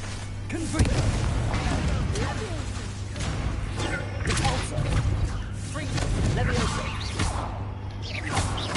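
Confringo blast spells explode in Hogwarts Legacy combat, a series of punchy booms and whooshing bursts recurring every second or so over a steady game soundscape, with someone talking throughout.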